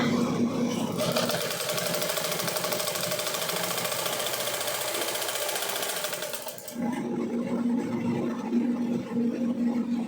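A sewing machine stitches old pants into shorts, running in a fast, continuous rattling burst for several seconds before stopping, followed by a lower mechanical hum and handling noise.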